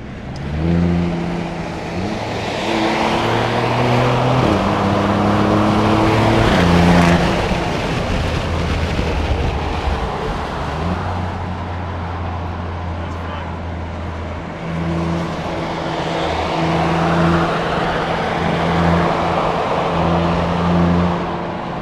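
A lemon-title Alfa Romeo Giulia Quadrifoglio in sport mode, heard from inside the cabin as the engine revs and accelerates with rising and falling harmonic tones. The drone is loud and sustained, and voices talk over it.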